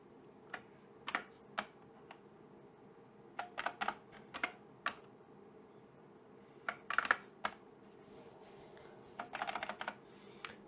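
Quiet clicks of a computer keyboard come in scattered bursts of keystrokes, including repeated backspace presses, close and crisp against faint room hum, with no talk.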